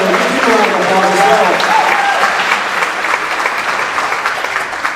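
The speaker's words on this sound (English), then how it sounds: "Give them a round of applause" Applause from a concert audience for jazz band soloists, a dense, loud wash of clapping filling the hall for the whole stretch, with a voice briefly heard over it near the start.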